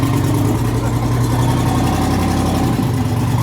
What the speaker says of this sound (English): That's a twin turbo V8 pickup truck.